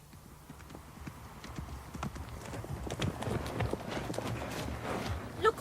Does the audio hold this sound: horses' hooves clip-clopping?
yes